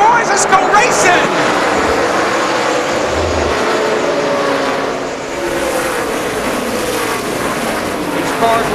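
NASCAR stock cars at the start of the 2004 MBNA America 400 race into turn 1 with a loud, continuous engine roar that swells and fades slightly, while a commentator talks over it.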